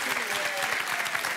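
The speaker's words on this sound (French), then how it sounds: "On vous applaudit" Studio audience applause on a French television dating show, a dense, steady wash of many hands clapping throughout, fairly close and even in level with no talk over it.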